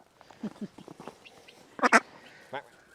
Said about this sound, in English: we wanted to show you the male duck